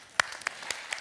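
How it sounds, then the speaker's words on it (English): A handful of isolated claps, roughly four separate hand claps spaced evenly and fairly faint, from an audience at a keynote talk in London, with no voices over them. "Give him a round of applause."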